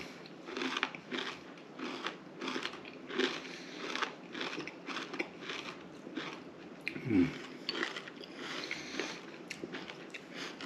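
Close, loud crunching and chewing of frozen cereal with icy milk and blueberries repeats in a steady rhythm of bites, with a brief clink partway through.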